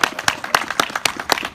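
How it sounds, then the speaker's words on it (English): Audience applause at a Children's Mental Health Awareness Day event, a short burst of scattered clapping from a modest crowd in a room, with irregular sharp claps rather than a dense roar. "Give them a round of applause"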